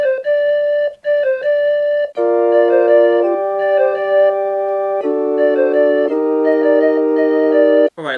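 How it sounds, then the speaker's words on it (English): Bright panpipe melody from the Animal Crossing New Horizons instrument set plays over sustained synth chords, loud and close, notes shifting every second or so with a brief gap near the end. "We'll just add in some panpipes over the top."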